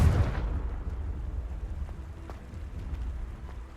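A Confringo fire spell blast from the Hogwarts Legacy video game opens with a loud burst, then trails into a long, low rumbling decay with scattered faint crackles and no voices.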